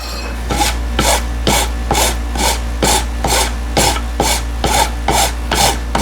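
A Shinto rasp's fine side files along the grain of wood for a harvest tray, a steady rhythm of about a dozen rough rasping strokes, close and fairly loud, under a constant low hum.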